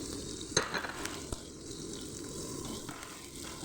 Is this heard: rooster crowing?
no